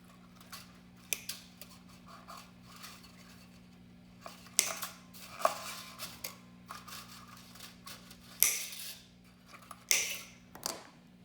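Old guitar strings on a Stratocaster being snipped off one by one, a series of sharp metallic clips and snaps spaced irregularly over a faint steady hum, no talking.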